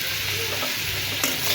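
Chopped ginger, garlic, onion, and green and dried chillies fry together in a pan, giving a strong, continuous close-up sizzle with a faint utensil tap.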